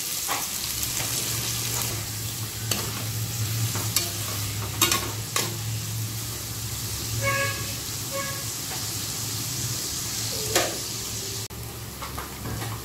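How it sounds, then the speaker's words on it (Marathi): Sliced onions frying in oil in a home kitchen, a steady close sizzle with occasional scraping stirs and light clinks of a spoon against the pan. "मसाला बनवण्यासाठी 4 स्लाइस केलेले कांदे घालायचे तिथे आता तेलामध्ये छान सॉफ्ट होईपर्यंत आपल्याला परतवून घ्यायचे आहेत।"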